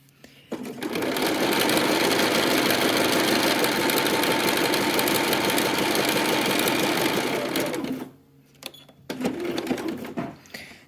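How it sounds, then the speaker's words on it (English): A sewing machine runs steadily and loudly as it stitches a crotch seam through two fabric layers of a vintage petticoat slip, humming for about seven seconds before stopping, then giving a few short stitching bursts. "I just sewed that crotch seam"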